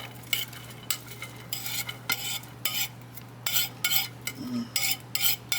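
Onions and peppers cooking in a pan for a black bean beef chili, stirred in brisk repeated scraping strokes with metal clinks over a low steady hum and faint sizzle.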